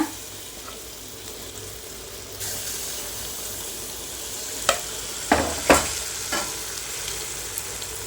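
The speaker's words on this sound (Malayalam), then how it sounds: "മാവ് റെഡി ആയിട്ടുണ്ട് ഞാൻ ഒഴിക്കട്ടെ" Wheat flour and banana batter hits hot oil with a rising sizzle, followed by a few sharp clinks and scrapes of stirring in the pan, close and clear with no voices.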